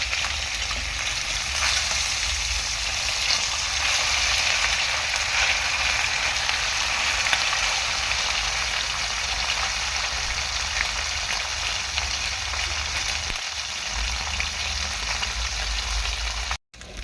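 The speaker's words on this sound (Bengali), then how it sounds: "এক সাইড মাছ ভাজা হয়ে গিয়েছে, এখন আমি উল্টে দেবো, দিয়ে আরেকটা ভেজে নেবো ভালো করে।" Small fish frying in hot oil in a pan and then flipped, a loud dense continuous sizzle that crackles steadily, alone without talking, and ends abruptly.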